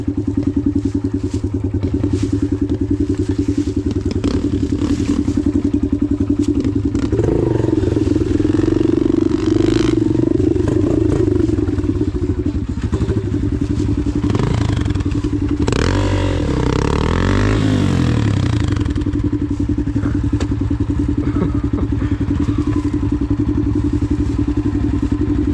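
Dirt bike engine droning loudly and revving up in bursts while stuck at a creek, with thumps and clatter from the rear wheel spinning in place, close and continuous.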